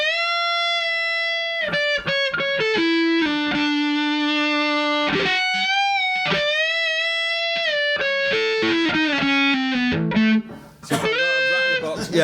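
An electric guitar plays through a Brelliott Deluxe TODP distortion pedal, giving gritty, saturated notes and chords with long sustained tones, sharp picked attacks and a burst of noisy strumming near the end.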